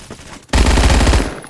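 A PPSh-41 Obrez fires in a video game: after a brief quiet lead-in comes one loud, close, rapid automatic burst of about three quarters of a second, then a quick cutoff.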